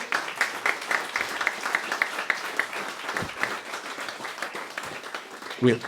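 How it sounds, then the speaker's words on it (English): A room of people at a startup mixer gives a panel of guest VCs a round of applause, steady dense clapping lasting throughout with voices mixed in, ending in a short louder burst. "Can we all give the panel a big round of applause?"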